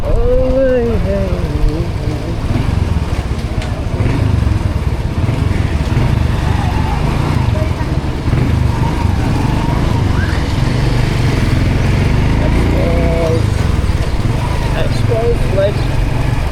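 A Honda CD100 motorcycle engine drones steadily while riding, loud and continuous throughout, with a rider's voice speaking intermittently over the engine noise.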